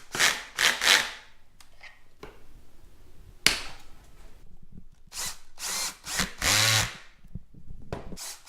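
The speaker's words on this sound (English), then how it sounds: "Now I'm going to glue and pocket screw them onto the plywood" Power drill driving pocket screws through plywood desk trim: several short loud whirring bursts separated by pauses, with handling knocks and scraping between them, close and with no voices.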